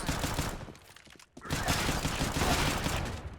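Rapid gunfire and AWP sniper shots in a Counter-Strike match, a dense loud barrage with a brief lull before the firing resumes and keeps going.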